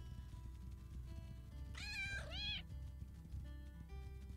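A cat in the game Play with Gilbert gives two quick rising meows close up, over a low steady background of game music.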